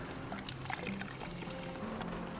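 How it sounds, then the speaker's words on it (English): Wort trickles and splashes as a brew-in-a-bag mash bag is slowly lifted from the kettle, a close, continuous pouring sound with small gurgles and drips, no talk over it. "lift it up slowly, just nice and slowly, and allow the wort to drain out of the bag"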